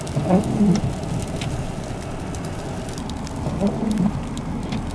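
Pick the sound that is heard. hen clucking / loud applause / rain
rain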